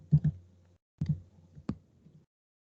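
Keys clicking on a computer keyboard as text is entered, a few quick taps in small clusters with pauses between, close and quiet in an otherwise silent room.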